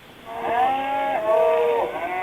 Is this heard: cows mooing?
yes